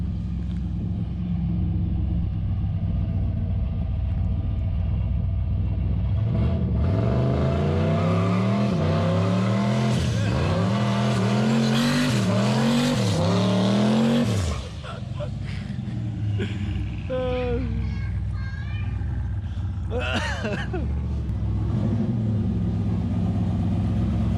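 A turbocharged LS-swapped G-body Malibu idles, then revs hard through a roaring burnout with repeated rising engine sweeps before abruptly cutting back to a rumbling idle; voices briefly speak afterward.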